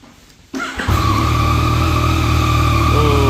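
A stock-exhaust Yamaha MT-09 motorcycle engine cranks and catches, then settles into a steady, fairly loud idle that continues with no talking.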